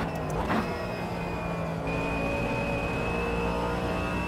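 Steady, continuous engine drone of a race car in the sim racing game Automobilista 2, with a thin high-pitched gearbox whine running over it throughout, loud and close, with a brief rising sweep near the start.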